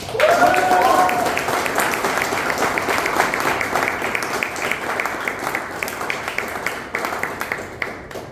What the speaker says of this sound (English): We would like to have a huge round of applause when I call up their names.